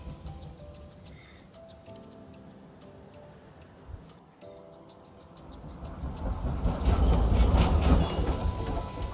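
A train in the video game World of Final Fantasy runs on rails with a steady clicking rhythm that swells into a louder, noisier rumble in the second half.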